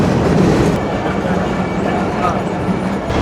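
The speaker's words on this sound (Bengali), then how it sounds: "65-18 সিরিজের লোকোমোটিভ নিয়ে প্রবেশ করলো।" A 65-18 series locomotive pulls a Mongla commuter train into a Bangladeshi station, giving a steady, loud low rumble with a faint rhythmic rattle of rail cars throughout.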